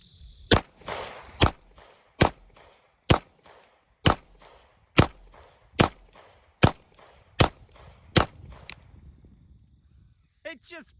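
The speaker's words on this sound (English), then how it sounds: "I'm going to be shooting it with some 9mm and just keep hitting it to see what it does." 9mm pistol rounds fired repeatedly into IIIA soft body armor: about a dozen sharp, loud gunshot cracks at a steady pace of roughly one per second, followed by a short burst of speech at the end.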